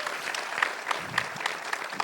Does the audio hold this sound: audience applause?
yes